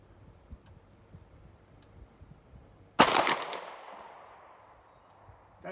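A single loud, close rifle shot from a .45-70 1885 High Wall fires once midway, with a sharp crack followed by a long decaying echo. Quiet background before and after.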